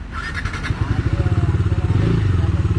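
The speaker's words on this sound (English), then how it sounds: "So let me start the bike first." A 250cc motorcycle engine cranks and fires, then settles into a close, steady idle with a rapid pulsing beat, loud and near, with no talk over it.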